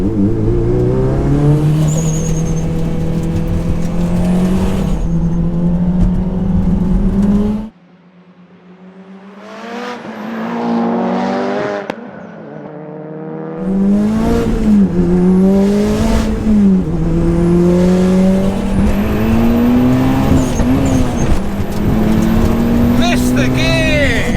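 Tuned Mitsubishi Lancer Evolutions, a 500 hp EVO 6, 510 hp EVO 7 and 440 hp EVO 10, roar at full throttle from a 50 mph roll, engines climbing through gears with brief shift dips, loud and close.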